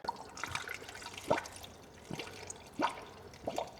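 Water gurgling and being sucked down into a Toyota Celica's cooling system as coolant is refilled, with several distinct glugs spaced out over a faint background hiss.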